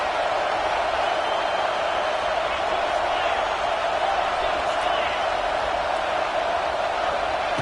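A stadium crowd at a football game keeps up a steady, dense roar, unbroken and evenly loud throughout, with no single cheer standing out.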